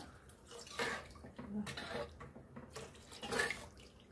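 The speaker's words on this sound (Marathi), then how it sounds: "आता आपण त्यात पाणी घालूया।" Soaking water from whole masoor lentils is poured into a pot for amti, faint splashing pours in several short bursts, quiet and close.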